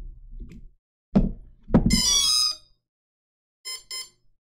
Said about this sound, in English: So after we hear the ding ding, we'll put our throttle down and we'll hear three dings, ding ding ding